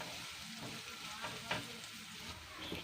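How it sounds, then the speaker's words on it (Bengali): Chopped onion frying in a pan with garam masala for chicken stew, a steady close sizzle with a few faint utensil clinks, no voices. "পেঁয়াজ কুচি দিয়ে দেব পেঁয়াজটাও একটু ফ্রাই করে নেব"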